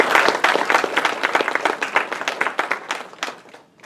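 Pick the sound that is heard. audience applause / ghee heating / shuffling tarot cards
audience applause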